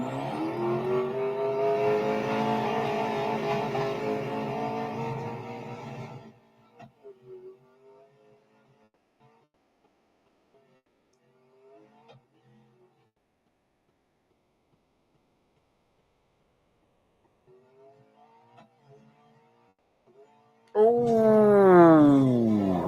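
The Koenigsegg Gemera engine in the racing game Real Racing 3 revs and roars loudly at the start, falls to near silence with faint ticks, then surges back with a rising rev at the end.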